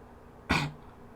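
A single short cough or throat-clearing burst, close and fairly loud, standing alone over a quiet background.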